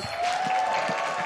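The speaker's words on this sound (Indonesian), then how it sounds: "EVOS Arena tepuk tangan dulu dong." An esports arena audience claps and murmurs between games of an EVOS versus Aura match, a dense sustained wash of applause filling the hall at steady volume, with a faint tonal hum running through it.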